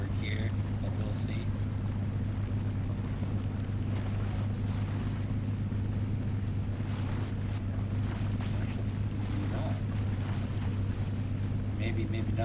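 An Oshkosh M107 truck in the Spintires driving game ploughs through water, a deep steady engine drone under continuous rushing, sloshing noise, with a voice talking over it.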